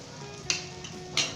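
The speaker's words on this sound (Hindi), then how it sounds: "फ्राई कर लिए मसाले को और उसे सब्ज़ मिर्चों को" Spices and green chillies fry in a pan for a cabbage and potato dish. A soft, steady sizzle runs underneath, with two brief, sharp scraping stirs, close and without talking.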